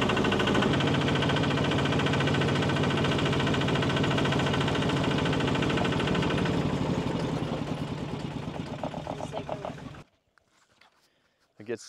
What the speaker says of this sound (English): In a tractor on a mountain in northern Thailand.